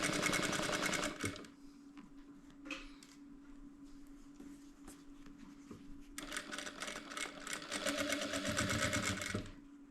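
A sewing machine stitches fabric for a quilted cloth pouch with a lining, running in a fast, close whir at the start, pausing with quiet handling, then resuming in a long steady burst before stopping.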